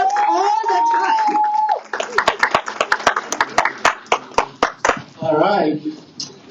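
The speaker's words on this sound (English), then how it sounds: "Give a big round of applause for him." A round of applause at an annual association meeting breaks out after a person speaks, a burst of rhythmic clapping with a few voices and cheers, then talk resumes briefly at the end.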